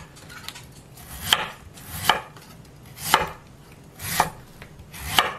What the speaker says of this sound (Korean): 무를 한 500g 정도 채를 썰어 보겠습니다